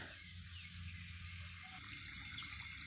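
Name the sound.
irrigation water turned on and running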